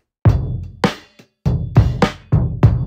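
Sharp acoustic drum hits with a crisp snare crack, played in a short groove of spaced strikes with brief pauses, close and fairly loud.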